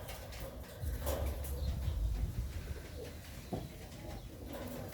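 A very young injured bird of unknown species gives soft cooing calls, close by and fairly steady, over low rumbling background noise.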